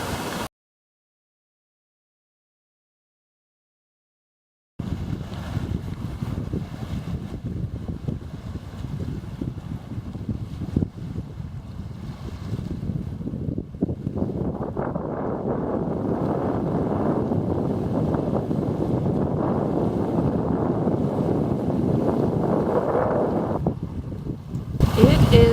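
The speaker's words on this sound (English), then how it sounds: "It is windy and the lake is rocking and rolling" Strong wind gusting by a choppy lake, a steady broad roar of wind buffeting close to the microphone that builds louder over the second half, with no talking.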